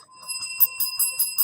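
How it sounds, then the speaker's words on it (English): A small bell is struck repeatedly in a quick, even rhythm, about six bright rings close by with sustained ringing tones between strikes and no talking. "Ring the bell."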